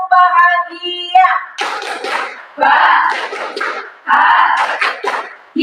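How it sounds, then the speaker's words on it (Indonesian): A class of pupils repeats the happy clap chant, with loud rhythmic voices and sharp clapping bursts in a few close, clearly spaced phrases. "Satu kali lagi, tepuk bahagia."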